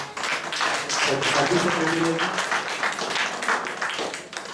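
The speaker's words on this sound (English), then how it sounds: "he deserves a big hand and big applause for that" An audience at a medical conference applauds steadily, a dense wash of clapping that runs throughout, with a voice briefly audible beneath it.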